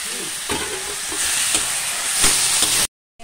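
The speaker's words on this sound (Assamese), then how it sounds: "মই মাংসখিনি ফ্ৰাই কৰি লৈছোঁ" Broiler chicken meat fries in a pan with onion paste, giving a loud, steady close-up sizzle broken by a few scraping stirs before it cuts off abruptly near the end.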